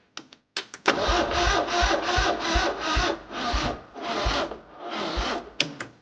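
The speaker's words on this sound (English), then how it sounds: "now when I turn over the engine" A 1980 John Deere 317 garden tractor engine cranks over on the starter without firing, in a steady rhythmic churn of repeated compression pulses, loud and close, with a few clicks before and after.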